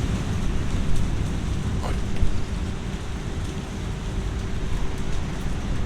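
Heavy thunderstorm in Paraguay, with steady loud rain and a low continuous rumble of thunder running throughout, close and dense with no clear pauses.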